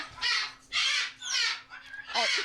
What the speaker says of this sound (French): On remarque qu'on a des oiseaux qui sont en train de faire leur show